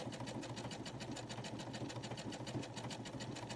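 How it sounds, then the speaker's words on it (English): A sewing machine runs steadily while stitching decorative patterns on fabric, its fast, even mechanical whir and rapid needle chatter continuing close and unbroken throughout. "it moves the fabric back and forth as it needs to make the actual stitching"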